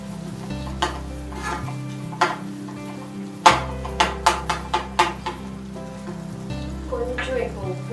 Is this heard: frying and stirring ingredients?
yes